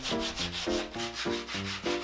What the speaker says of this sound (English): All these edges need to get cleaned up with sandpaper.